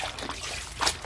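Water running into a bowl to rinse salted Korean cabbage for kimchi: a continuous close splashing trickle.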